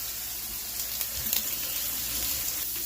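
Steak frying in a pan gives off a steady, soft sizzle and crackle, continuous and fairly quiet, with a few small pops and no talking.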